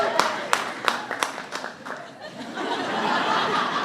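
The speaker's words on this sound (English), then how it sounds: "Everybody, please give the National Teacher of the Year a big round of applause." Scattered claps ring out first, then blend into a wash of crowd applause and light laughter for the National Teacher of the Year at the White House, moderately loud and building into a steady roar.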